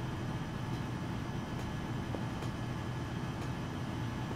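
A train rolling in the game Train Sim Pro USA, a steady loud rumble with faint periodic clicks of the wheels on the track, continuous with no talk.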